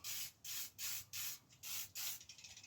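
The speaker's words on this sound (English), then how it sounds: "Let's do a bit of spray oil." Spray oil hisses from a can onto a BMX bike in six close, loud, evenly spaced bursts of about a quarter second each, then quick short puffs at the end, with no voices.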